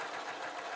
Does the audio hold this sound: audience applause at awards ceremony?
no